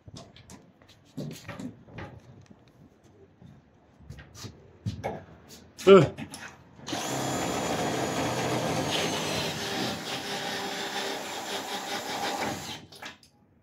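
Power drill driving self-drilling screws while a roll-up door is mounted on a self-storage unit, a sustained loud whirring run of several seconds after scattered knocks and clatter.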